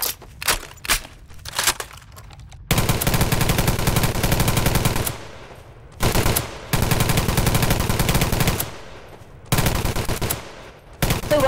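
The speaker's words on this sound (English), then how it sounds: "Those are the first bullets." Automatic gunfire in the Garry's Mod video game, with long sustained bursts of rapid shots and a few short scattered volleys between them, loud and close.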